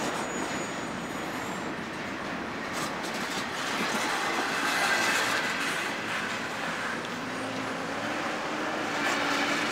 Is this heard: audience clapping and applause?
no